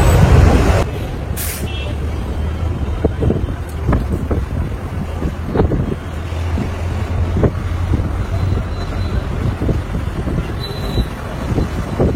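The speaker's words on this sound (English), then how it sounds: "our bus has finally departed from the Ahmedabad station, and we are going to Mehsana" A bus pulls away from Ahmedabad station bound for Mehsana, its engine a steady low rumble with a short sharp air-brake hiss early on and scattered clunks and rattles throughout.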